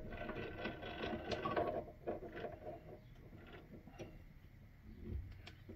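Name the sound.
chucking a piece of steel in a lathe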